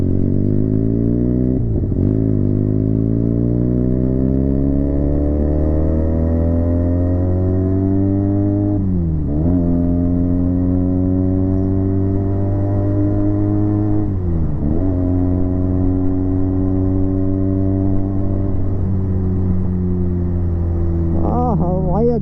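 A Benelli 300 motorcycle exhaust rumbles loud and close throughout, rising and falling through several throttle blips and gear changes with a steady engine drone between them.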